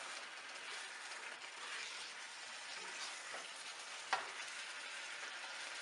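Spices frying in a pan for a Punjabi paya (trotters) dish, a faint, steady hiss and sizzle with one small clink partway through, heard alone without talk.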